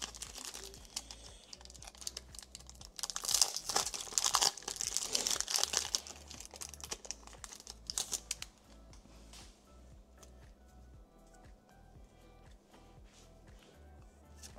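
Plastic wrapping crinkling and tearing as a Pokémon-style card bundle is opened, a burst of close crackling for several seconds that fades to faint rustles and handling.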